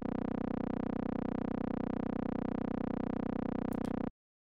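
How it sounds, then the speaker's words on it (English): A sustained synth tone from a DUNE 3 software synthesizer, a sine wave applied as filter FM for a rich, buzzy analog character, holds steadily at constant level for about four seconds before cutting off abruptly. "if we bring up that sine wave, that is filter FM, which is a very classic analog sound"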